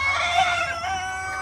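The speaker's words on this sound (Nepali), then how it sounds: "यता उस्तै छ, उता उस्तै छ, कुखुरै कुखुरा ततातै कुखुरै कुखुरा।" Local chickens on a poultry farm give a brief, fairly loud burst of clucking and squawking close by.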